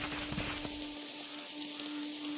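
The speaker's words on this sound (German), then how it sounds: "es ist Nacht, es regnet." A quiet, even hiss of rain falls at night in the Jagged Alliance 3 video game, continuous and soft throughout.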